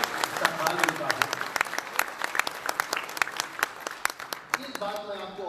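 Audience applause at a mushaira in Doha, Qatar, a dense steady clapping from the crowd lasting several seconds, with a voice speaking over it near the end.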